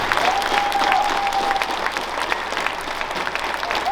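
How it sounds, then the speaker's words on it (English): An audience at a school Veterans Day program claps for three guest speakers in a dense, sustained round of applause that holds steady throughout. "Can I get another round of applause for our 3 guest speakers?"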